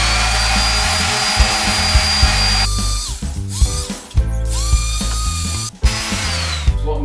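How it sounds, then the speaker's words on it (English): A power sander works over recycled timber for a rustic farmhouse workbench, a loud whining drone that stops and restarts several times, with brief scraping pauses between passes. "What I'm going to do now is to just sand it down slightly, just to get rid of the gnarly bits around here"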